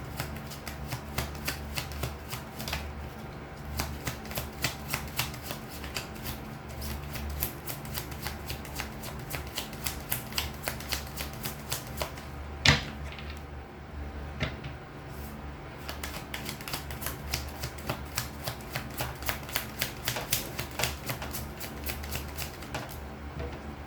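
Tarot cards are shuffled steadily and close up, a dense run of quick papery riffles and soft flicks that repeats for the whole stretch with no voice over it.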